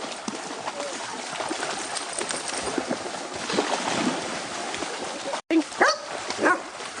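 At a dog daycare, dogs yip and bark amid a busy, noisy background, with a few sharper barks standing out near the end.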